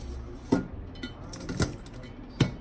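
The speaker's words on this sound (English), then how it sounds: "Go ahead and put the top on that." A lid set on a cooking pot of simmering Mexican pozole gives three sharp metallic clanks, close by and spaced about a second apart, over a quiet kitchen background.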